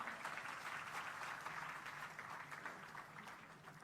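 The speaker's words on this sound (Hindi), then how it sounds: "एक बार ताली बजाइए असुर के नाम पर।" Audience clapping during a Hindi spiritual discourse, a faint, even wash of hand claps sustained across the whole moment with no voices over it.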